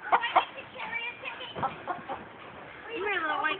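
Chickens cluck and squawk close by in short, irregular bursts, with people talking over and between the calls.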